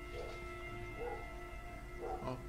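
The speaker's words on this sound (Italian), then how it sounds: "E adesso anche il cane si mette ad abbaiare, ragazzi." Dog barking in The Last of Us, a few soft yips and barks with whimpering quality spaced across the clip over steady game background hum.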